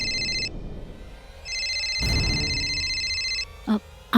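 An electronic telephone ring in a Hindi TV drama sounds in two bursts, a short one then a longer one, with a thud and faint voices around it.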